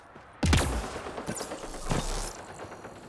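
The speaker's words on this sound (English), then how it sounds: "Why am I hearing lots of gunfire?" Sudden bursts of gunfire, several sharp cracks and booms echoing close by, followed by a lingering rumble.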